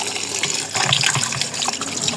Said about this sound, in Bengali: এখন মাছগুলো ধুয়ে নিচ্ছিলাম।